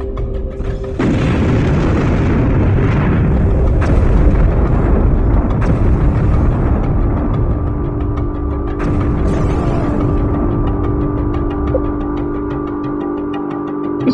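A loud, deep EMP burst explosion in a real-time strategy game opens with a heavy boom, then fades into a long rumbling wash under steady ambient hum, with a second softer burst partway through.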